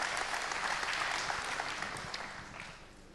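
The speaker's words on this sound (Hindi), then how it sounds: "संतुष्टता की तो ताली बजा दीजिएगा" Audience applause at a spiritual question-and-answer gathering, a dense patter of many hands clapping together that gradually fades over a few seconds.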